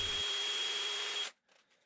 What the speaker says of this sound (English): I use the pilot hole in the base as a guide to drill the pilot hole in the post